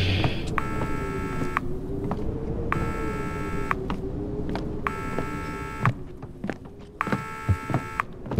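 A phone dials a number with repeated bursts of keypad tones, four evenly spaced beeping stretches over a steady hum, followed by a few faint clicks near the end.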